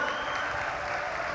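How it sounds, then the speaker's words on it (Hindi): Dense audience applause at a large religious gathering, a steady wash of clapping from many hands, fairly distant and unbroken for a short burst. "ताली बजाकर उन्हें धन्यवाद दो।"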